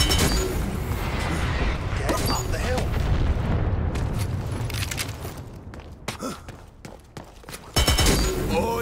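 Airstrike explosions in the video game Dirty Bomb: heavy, continuous booming and rumbling with scattered gunfire cracks, loud and dense throughout, and a fresh blast near the end.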